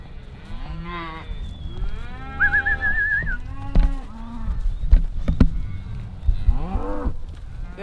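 A herd of Angus and Limousin cattle with calves moos repeatedly at close range, several overlapping low and rising calls, with a brief whistle and shuffling hooves in the background.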